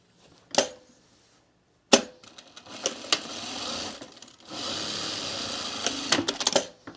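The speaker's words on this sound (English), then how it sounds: "Let me just sew this seam together real quick" A sewing machine stitches a seam in short runs, its needle rattling rapidly in bursts separated by pauses and clicks, close and clear with no talking.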